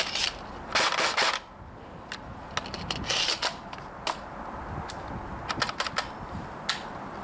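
Bursts of rapid clattering shots from a Krytac P90 airsoft electric gun with a 200-round mid-cap magazine, firing in short strings close by until the magazine runs empty.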